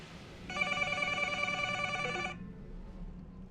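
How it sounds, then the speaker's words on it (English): A telephone on a store counter rings during a night shift, one steady electronic ring held for nearly two seconds, then it stops, leaving quiet room tone. "About an hour later, the phone on the counter rang."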